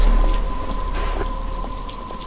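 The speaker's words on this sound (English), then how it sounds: "But it's starting to rain." Rain falls steadily in the Batman: Arkham Asylum game, a dense even patter with scattered droplet ticks under a faint steady electronic tone, fairly loud and continuous without speech.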